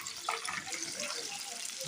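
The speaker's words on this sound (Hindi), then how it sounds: "इस कटोरी पे मैं पानी ऐड करूँगी" Water pours in a steady, close splashing stream into a bowl of cumin rice during pulao cooking, with no talk over it.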